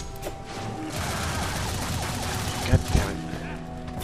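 Gunfire from a Gatling gun in the video game Shank, a dense continuous burst of rapid shots with a couple of louder hits near the end, heard under a voice.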